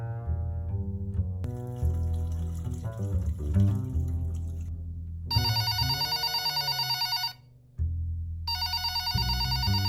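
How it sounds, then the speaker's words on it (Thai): An old-style telephone bell rings in a cartoon, loud bursts of ringing separated by a brief pause, set over cartoon background sounds. "มันคงไม่มีอะไรมั้งแค่เสียงโทรศัพท์โทรผิดก็ได้"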